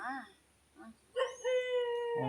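A dog barks and howls in several short bursts in a rural ragi field, fairly close, with talk around the calls.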